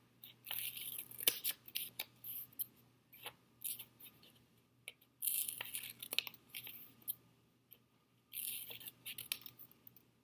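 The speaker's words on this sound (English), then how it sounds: "Then we're going to trim each piece. Just a nice smooth cut across the paper." Scissors snipping through paper while trimming pieces for a craft project, a few short crisp cutting bursts spaced apart, close and fairly quiet against a low steady hum.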